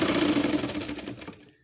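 A sewing machine stitching a patchwork fabric basket, running in a fast, steady mechanical rattle close up, then slowing and fading to a stop after about a second and a half.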